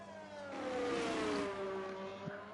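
An F1 race car engine in the F1 2023 game at the Brazilian Grand Prix drones steadily at high revs, its pitch gliding slightly during a long uphill run, close and continuous with a brief shift near the end.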